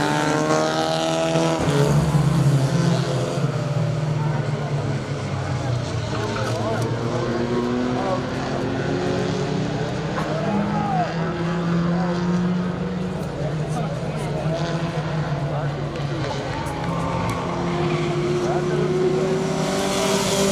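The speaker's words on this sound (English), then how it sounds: "Green flag is flying. We are underway with our first race." Race cars roar around Saratoga Speedway at the start of a race, with engines droning and shifting pitch continuously throughout, while an announcer talks over the racing noise.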